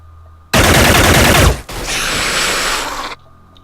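Machine gun fire in a video game mission: one loud, sustained burst of rapid shots, a split-second gap, then a second long burst, close and dominant with no talking.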